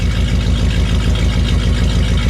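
Loud, steady, low rumble of a 1964 Studebaker Daytona convertible's 259 V8 engine idling close by, pulsing evenly throughout.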